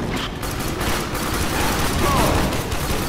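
Gunfire in the Warframe video game: dense, rapid bursts of shots rattling continuously, with someone talking over the shooting.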